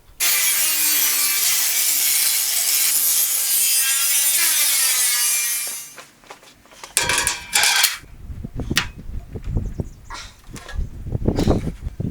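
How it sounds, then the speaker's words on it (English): An angle grinder smooths score marks on diamond plate for a tool box, a loud, steady high whine for about six seconds that winds down, followed by clanks and rubbing of metal being handled. "right now I'm just going to take the angle grinder to all of these score marks to soften them up, round them over a bit"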